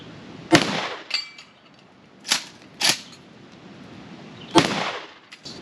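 Walmart bird shot shotgun shells, water-soaked, fired outdoors: four sharp loud bangs spaced irregularly, each with a short ringing tail, plus a fainter crack, with no talking.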